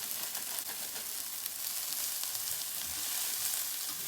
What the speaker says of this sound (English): We've got onions and broccoli sauteing right now.